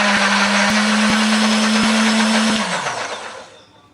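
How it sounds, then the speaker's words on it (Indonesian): A kitchen blender grinding shallots, garlic and candlenuts with a little water, a loud steady whirring roar with a constant motor hum that winds down and fades near the end. "Ada bawang merah, bawang putih, kemiri, tambahkan sedikit air supaya lebih gampang untuk menghaluskannya."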